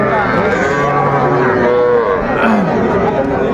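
Cattle lowing at a busy livestock market where young bulls and heifer calves are sold, a loud, close, drawn-out moo over the steady chatter of a crowd.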